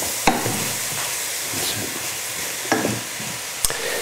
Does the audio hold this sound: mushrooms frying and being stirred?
yes